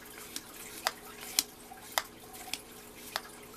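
A backpacking water filter pumps in sharp, regular clicks and squirts, about six strokes in a steady rhythm, close and fairly quiet over a faint background hum.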